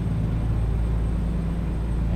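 Steady low diesel truck engine drone from Euro Truck Simulator 2, a constant loud rumble held throughout with no speech.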